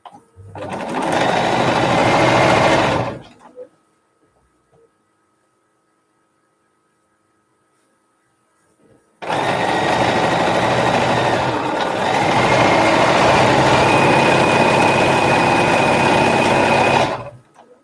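A sewing machine stitching quilt seams runs loud and close in two bursts, a short one and then a longer steady whir, separated by several seconds of near silence.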